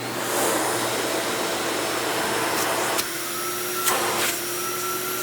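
A Dirt Devil 7200 Deluxe upright vacuum with a fixed hose and poor sealing runs steadily and loudly, a constant motor whine and airy suction rush throughout, with a couple of brief changes in tone as the hose is used.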